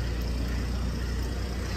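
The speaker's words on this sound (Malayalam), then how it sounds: "ഓ വണ്ടി പോണ്." A vehicle passes close by on a street near a hospital, a steady broadband road rumble that stays loud and even throughout with no voices.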